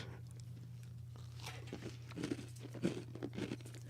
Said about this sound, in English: don't chew so close to your microphone